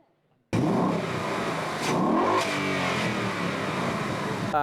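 A Ford Mustang engine at a car show in Australia bursts into a loud, close rev after a moment of quiet, then holds a strong throaty roar that swells again before easing slightly.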